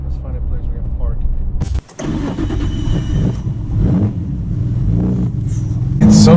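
A Nissan R34 Skyline GT-R V-Spec, all-wheel drive, has its engine running close by with a sharp cut and restart partway through, then a steady mid-pitched idle under men's conversation.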